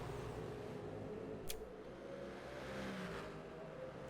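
GT3 race cars lapping Daytona in a sim-racing game, a train of five cars running nose to tail, their engines droning and whirring steadily at a constant loud level with no talking.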